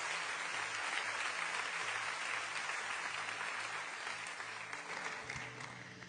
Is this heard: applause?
yes